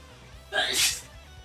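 A single sharp human sneeze bursts out briefly and fairly close, with quiet room noise before and after.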